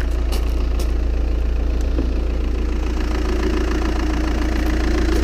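A Volkswagen Touran 2.0 TDI 136 hp diesel engine idles close up, a loud, steady low rumble with an even clattering diesel knock and no pauses.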